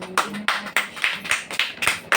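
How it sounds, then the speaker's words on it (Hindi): A church congregation clapping along during a sermon, about eight sharp, evenly spaced group claps in a steady rhythm, close and loud with no speech over them. "बजाओ ताली"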